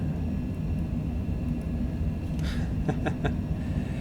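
An airplane taking off in Microsoft Flight Simulator 2020: a loud, continuous low engine roar and rumble throughout, with a few brief clicks near the end and no voices.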